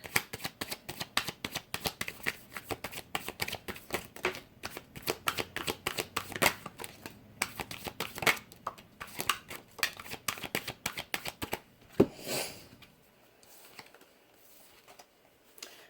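A deck of tarot cards is shuffled by hand in quick, crisp riffling bursts for about twelve seconds, then fades to a few soft card handling sounds.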